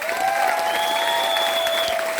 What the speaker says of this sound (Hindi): ताली जोर से बजा दीजिए।